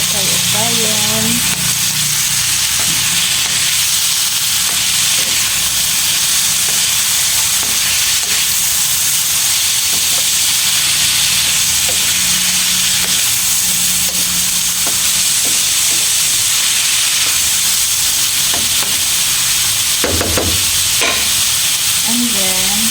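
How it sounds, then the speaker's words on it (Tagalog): Chayote squash sautéing in a hot pan at home, with steady loud frying sizzle and hiss throughout, broken by occasional stirring scrapes and brief soft talk. "ilagay na natin ang ating sayote. Ginisang sayote."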